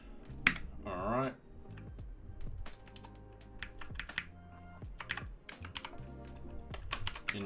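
Computer keyboard typing in quick irregular bursts of clicks, close and moderately quiet, with someone talking over the keys.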